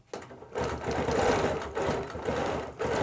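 Sewing machine quilting a small quilt, running loud and close in sustained bursts with brief dips between them, with no talk.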